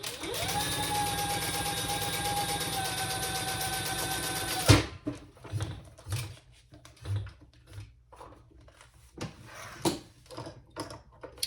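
Domestic sewing machine stitching steadily under a foot pedal for several seconds, a continuous close motor whir that stops abruptly, followed by scattered handling knocks and clicks.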